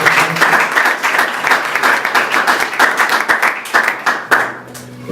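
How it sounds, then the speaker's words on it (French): Dense, steady applause from a church congregation fills the space, many hands clapping together at close range, then thinning into scattered claps near the end. "On peut applaudir pour la parole."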